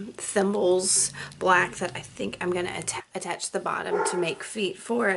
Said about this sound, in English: Excuse my dog, y'all.